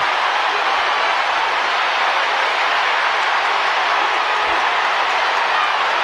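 A boxing arena crowd roars loudly and continuously, a dense, unbroken wall of noise at a prizefight as the fans cheer a big punch.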